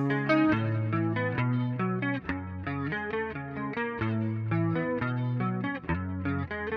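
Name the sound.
electric guitar with compressor and chorus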